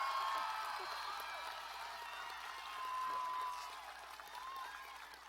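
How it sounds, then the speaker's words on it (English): Applause and scattered cheers for graduates at a Russell County High School graduation ceremony, fairly distant and soft, a diffuse crowd sound that rises and falls with occasional whoops. "Let's give these graduates a round of applause."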